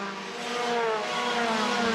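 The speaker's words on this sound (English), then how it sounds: "Gabriele Tarquini's Honda firing flames out that exhaust" Gabriele Tarquini's Honda touring race car at a WTCC race in Austria, 2013, its engine droning steadily and loudly at high revs as it holds speed, with no pause across the whole stretch.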